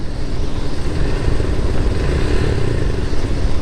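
A motorcycle engine drones loud and close while riding a rough, bumpy shortcut road in Cavite, with rumbling low tones, wind buffeting and rattling clatter throughout, no speech.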